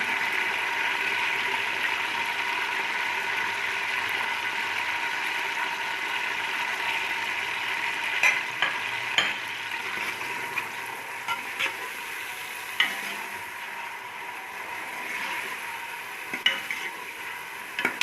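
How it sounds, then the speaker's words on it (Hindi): Onions fry in a pan for aloo mutton with a steady bright sizzle throughout, joined later by intermittent scraping and clicking stir strokes. "प्याज को फ्राई करेंगे अच्छी तरह से"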